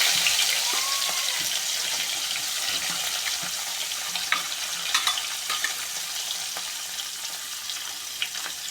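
Chopped onions fry in a pan with a steady hiss and sizzle, broken by a few brief clicks and taps.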